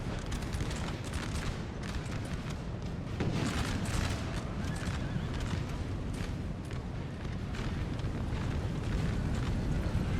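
Battlefield cannon fire and explosions in the Napoleonic strategy game Napoleon: Total War, a dense, continuous rumble of booms and distant volleys with sharper blasts scattered throughout, loud and sustained with no pause.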